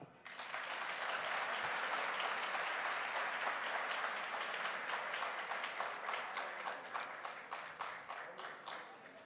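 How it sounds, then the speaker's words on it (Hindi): An audience at a diamond promotion celebration bursts into applause, loud and dense clapping that swells quickly, holds, then breaks into more distinct individual claps as it fades. "तालियां"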